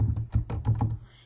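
Several quick, close keystrokes clack on a computer keyboard in a brief irregular run, then fade into quiet.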